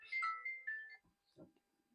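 A short electronic ringtone chirps a quick melodic phrase, then breaks off, leaving faint scattered noises in a quiet room.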